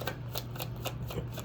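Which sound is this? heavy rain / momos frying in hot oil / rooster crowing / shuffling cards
shuffling cards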